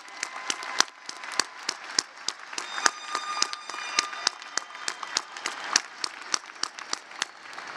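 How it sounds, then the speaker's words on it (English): Commencement audience at a college graduation ceremony applauds graduates' families and friends, a sustained wash of many hands clapping with sharp individual claps standing out, steady and moderately distant throughout. "can I get a round of applause for all the family members and friends with us today?"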